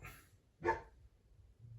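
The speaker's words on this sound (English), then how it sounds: "now the other dog's barking." A single short dog bark rings out from a little distance against a quiet background, with faint rustling around it.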